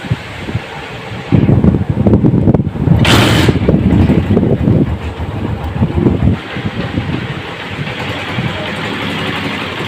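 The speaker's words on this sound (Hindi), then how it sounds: "बाइक हमने स्टार्ट कर दी और ये माशाल्लाह स्टार्ट खड़ी हुई है" A 2019 Honda CG 125 motorcycle starts up and settles into a steady single-cylinder idle, loud and close, with some wind buffeting across the microphone and no talking.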